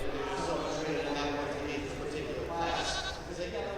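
Sheep bleat repeatedly at a county livestock show, a young lamb among the animals, with children's voices and crowd chatter continuous underneath.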